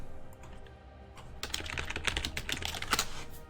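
Computer keyboard typing during a gaming broadcast, a quick run of clicky keystrokes that picks up after a quiet start and continues steadily and close, with no talking over it.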